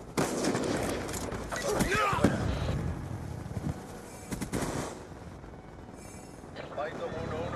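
Rapid bursts of AN-94 assault rifle fire in Black Ops 2 rattle out in quick volleys during a match, loud and close, with game voices calling out between the shots.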